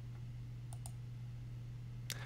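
Computer mouse clicks while staking a barn in the Farming Tales NFT game: a couple of quick, sharp clicks close together, then one more click a moment later, over a steady low hum.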